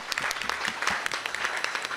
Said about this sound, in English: Let's give them a round of applause for being here today.